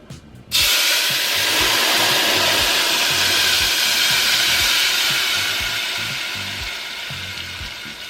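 Salsa roja is poured into hot oil in a saucepan over medium heat. It bursts into a loud, steady sizzle and hiss that holds strong, then eases off slightly as it keeps frying.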